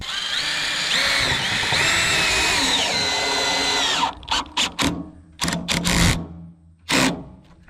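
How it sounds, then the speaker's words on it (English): A cordless power drill runs steadily for about four seconds driving screws into a raised garden bed frame, then gives several short bursts and a final quick whir, close and loud. "So I'm going to go ahead and put those 4 screws in."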